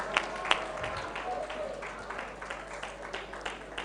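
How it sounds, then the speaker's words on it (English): At the closing ceremony of a university capital-market challenge, a crowd claps in a moderate, scattered patter, a few sharper claps near the start, with faint talk mixed in underneath. "Can you give him more round of applause?"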